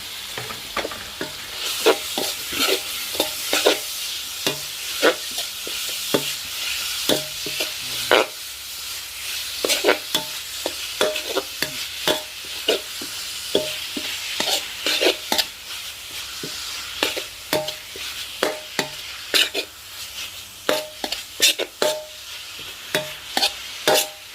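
Pork stir-fried for Thai basil pork in a pan, with continuous sizzling and frequent scraping, clattering stirs of a utensil against the pan, close and fairly steady.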